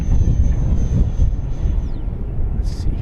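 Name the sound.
FMS Viper Jet 70mm RC model jet flying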